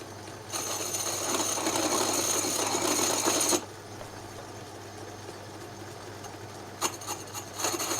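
A sharp metal edge on a no-weld saw roller stand is deburred by hand, giving about three seconds of steady rasping scrape, then a quieter stretch with a few brief scraping strokes near the end.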